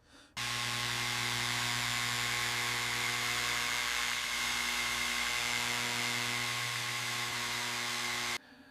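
A power sander runs steadily and loudly for several seconds, taking sanding marks out of parts from a 1928 Isotta Fraschini 8A car, starting and stopping abruptly.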